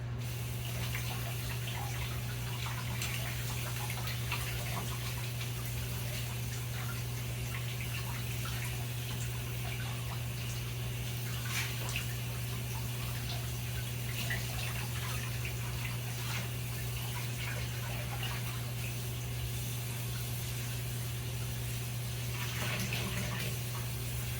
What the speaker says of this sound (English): I'm going to get it wet, just like the other one, with hot water